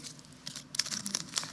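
Brief crinkling of a small plastic Ricola cough drop wrapper, a few crackly rustles close by and fairly quiet.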